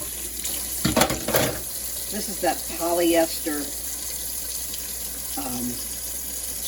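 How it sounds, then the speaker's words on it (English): Tap water runs steadily into a sink to rinse tea-dyed fabrics such as polyester and elastic, with brief bursts of splashing as the cloth is handled and a short stretch of talk over the flow. "I'm running some water and rinse them"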